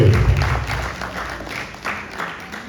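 An audience at a Nigerian diaspora event applauds, a broad patter of clapping that fades and swells over a few seconds, with a heavier low rumble at the start.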